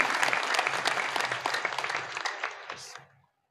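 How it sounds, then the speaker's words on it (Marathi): An audience claps together at a Marathi religious discourse, a dense burst of applause lasting about three seconds before cutting off abruptly. "एकदा टाळ्या वाजवा."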